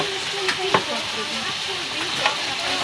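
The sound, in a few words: tocino frying in oil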